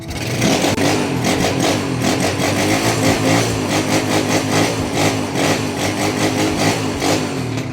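A Honda TMX155 motorcycle engine fitted with a Barako 175 carburetor runs at idle, loud and close, with a steady, even throbbing beat and no one talking.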